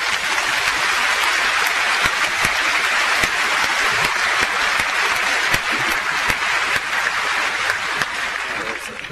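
Sustained applause from a large audience at a public debate on state surveillance, a dense steady wash of clapping filling the hall for about nine seconds and easing slightly at the end.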